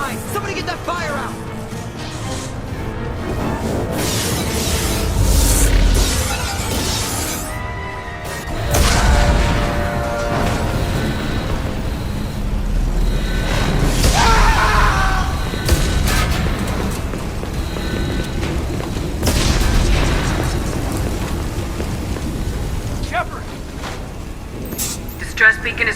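Starship explosions and hull breaches in the video game Mass Effect 2 boom and crash through a long stretch of deep rumbling, heavy impacts and debris, loud and continuous, with voices speaking throughout.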